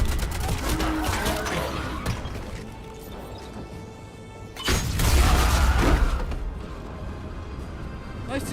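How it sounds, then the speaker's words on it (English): Grenade explosions in Mass Effect 3 boom out amid dense combat noise, with a heavy burst near the middle of the clip and a busy rumbling din around it, while a voice talks over the action. "Nice to see you using those grenades."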